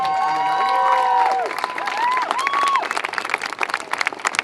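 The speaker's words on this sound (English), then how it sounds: "Another big round of applause for Samaya." Audience at a community gathering with police gives a round of applause, dense clapping with a few whistles and cheers, steady and fairly close, fading toward the end.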